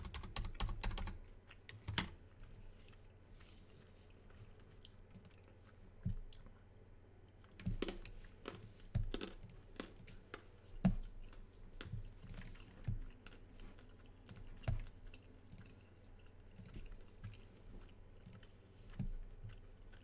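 Computer mouse and keyboard clicks during a Magic Online game, sparse and irregular clicks, some in quick bursts, close and faint against a quiet room.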